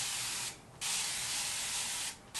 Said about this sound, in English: So I'm gonna get my spray bottle with water.